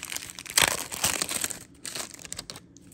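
Junk wax baseball card packs are ripped open up close, the wrappers crinkling and tearing in quick bursts, with a brief pause near the end.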